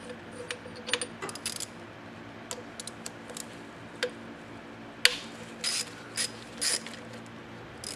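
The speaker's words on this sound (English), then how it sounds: "go ahead and remove, disconnect these 4 bolts on the top of the AC compressor" Ratchet clicks and metallic taps while bolts on top of the AC compressor are loosened on a 1994 Ford Ranger 4.0 V6, coming as sparse, irregular short bursts, close and moderately quiet, with no talking.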